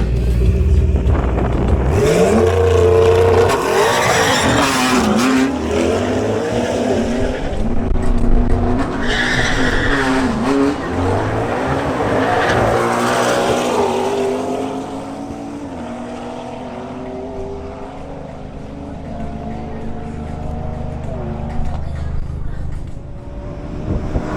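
A McLaren MP4 tears down a drag strip, its engine roaring loud and close with rising gear pulls and tire squeal, the note sweeping higher as the car accelerates through the run.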